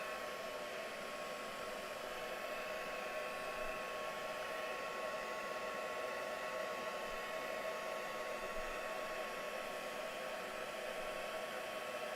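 A hair dryer blows steadily on fresh paint on artwork, a constant loud whooshing roar that runs unbroken from start to finish with no other sounds.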